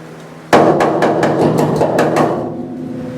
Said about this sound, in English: start kind of hammering up here and then bring my hammer strokes down to try to roll it in